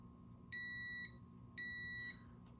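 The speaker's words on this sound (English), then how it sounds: "we have a alarm going off" Kaiweets KVBF01 brake fluid tester sounding its alarm while testing DOT 3 fluid: two long, steady, high-pitched electronic beeps with a short gap between them, loud and clear over a quiet hum.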